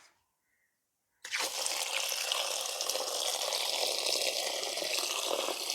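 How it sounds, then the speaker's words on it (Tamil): Freshly picked homegrown spinach greens being washed in water at a sink, a steady loud rush of running tap water starting after a brief silence and continuing unbroken to the end, with no talking. "இப்போ இதை நாங்கள் 2-3 தடவை கழுவி எடுக்கணும்."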